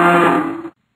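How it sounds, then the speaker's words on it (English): A single drawn-out cow moo from a video game, loud and close, with a rich harmonic tone that holds steady then cuts off abruptly. "Can you hear the cows mooing?"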